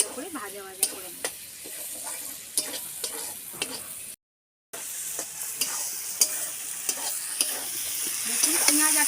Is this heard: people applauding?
no